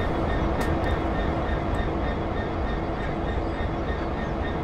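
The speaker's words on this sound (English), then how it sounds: "Look at that train over there." A train rumbling steadily in Train Sim World on the Great Western Express line, a loud continuous roar of rail noise with faint clattering, heard alone and holding at even loudness throughout.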